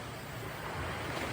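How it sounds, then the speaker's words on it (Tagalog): Steady roar of rough sea surf with wind noise, continuous and fairly distant, no voices, heard from the shore. "Nangangalit na naman po ang dagat."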